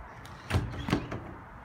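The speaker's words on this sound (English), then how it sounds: "Patio door that opens from the main living room." A sliding patio door off a main living room rolls along its track, two short thumps and rattles about a third of a second apart, close and moderately loud with no talk.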